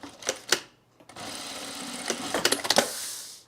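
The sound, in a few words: sewing machine hemming fabric edge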